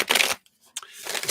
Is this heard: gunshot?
no